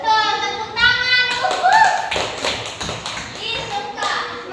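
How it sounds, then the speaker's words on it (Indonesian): Children in a primary school classroom clap their hands together in a short burst of applause, close and fairly loud, mixed with an adult voice and children's chatter. "Betul, tepuk tangan."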